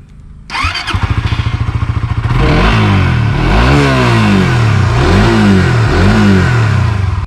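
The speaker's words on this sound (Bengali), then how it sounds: "দেখেন গাইস স্টার্ট হয়ে গেছে বাইকটি" A Suzuki GSX-R150 motorcycle engine fires up with a rapid putter, then settles into a loud idle broken by several rising and falling throttle revs, close and alone.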